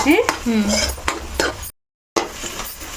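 A utensil stirs egg and raw prawn iguru curry frying in a pan, giving repeated metallic scrapes and clinks over a light sizzle, broken by a brief silent gap.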